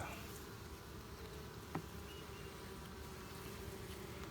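Honey bees buzzing at their hive, a dense, continuous drone of many insects, steady and moderately close, with one brief click partway through.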